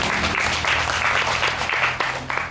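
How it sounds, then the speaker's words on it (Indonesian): An audience at a wellness camp talk bursts into applause, a steady, fairly loud patter of many hands clapping together for a couple of seconds. "Tepuk tangan untuk kita semua."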